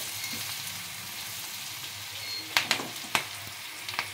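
Chilli bhetki fish with chilli powder fries in hot oil, a steady, dense sizzle with a few sharp utensil clinks and taps as it is stirred near the end.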